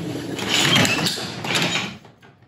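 A garage door is pulled down by hand and locks back into the opener trolley, giving a loud sliding, rattling rush of metal with a second surge before it settles into quiet.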